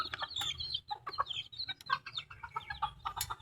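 Chickens, including roosters kept on a backyard flock, cluck and squawk in a busy cluster of close, overlapping calls with no talk.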